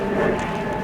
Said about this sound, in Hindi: जहाज़ भी कोई अपनी मंजिल की तरफ को जाते हुए।